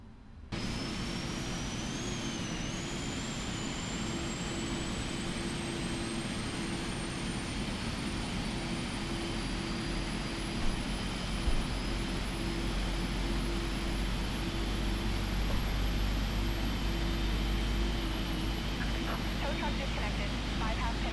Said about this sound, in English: Starting left engine.